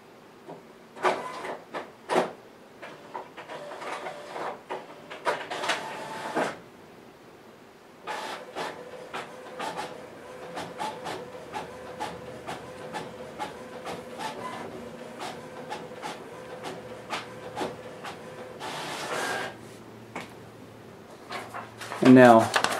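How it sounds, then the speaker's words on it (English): A printer whirs and clicks in rhythmic bursts, its mechanical feed running steadily in the background while a person talks over it. "You should hear my printer go in the background."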